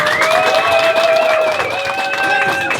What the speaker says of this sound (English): Start clapping, start whooping, start humming.